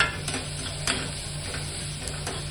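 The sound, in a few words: sautéing onion and garlic in a pan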